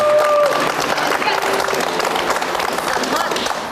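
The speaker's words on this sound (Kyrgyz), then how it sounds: "Болот мырза үчүн кол чаап коелу." Audience applause at a talk show, a thick, steady wash of clapping from a large crowd that holds at full loudness throughout, with a couple of brief tonal whoops at the start.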